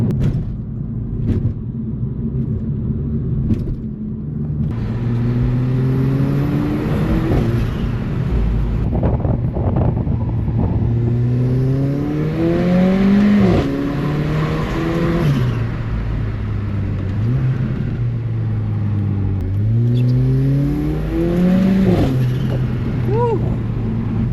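Turbocharged AMG car accelerating hard from inside the cabin, engine note climbing repeatedly through gears with rising sweeps and brief drops at shifts, over road rumble and wind noise.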